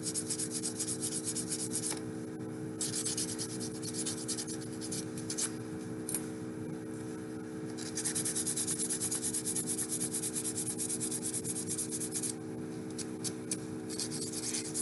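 Sandpaper rubbing along the edges of small alcohol-ink earring pieces, a soft continuous scratchy friction that stays close and steady throughout, with no voices.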